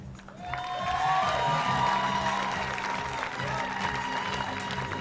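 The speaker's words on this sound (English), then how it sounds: "And big round of applause for all of these, please." A full audience applauds steadily for award nominees at a local community awards ceremony, a dense wash of clapping with some cheering that swells after the first half second and stays loud throughout, with a voice and musical tones faintly underneath.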